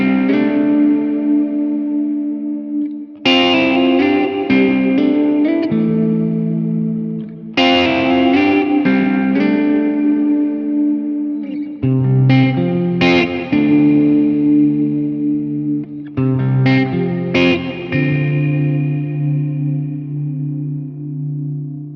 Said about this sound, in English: With church, think massive cathedral spaces. Long, airy decays that add weight and grandeur to single notes or chords